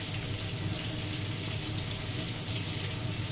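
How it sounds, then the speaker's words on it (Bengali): Mustard and poppy seed paste mixed with water poured into a pan of hilsa fish, a steady, dense rush of liquid running continuously throughout with no speech. "জলটা, সর্ষে পোস্ত জলটা দিয়ে দিলাম।"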